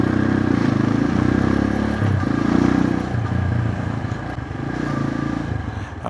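A motorcycle rides along a road, its engine humming and pulsing with uneven surges of throttle, loud and close throughout with a rattling undertone and no talk.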